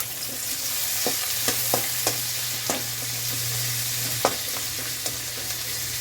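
A piece of pork chop fries in a pan with tomato and garlic, a steady close hiss of sizzling broken by occasional light clicks of stirring.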